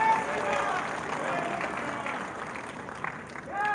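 An audience at a Lohri and Makar Sankranti gathering applauds, a dense, continuous wash of many hands with crowd murmur mixed in.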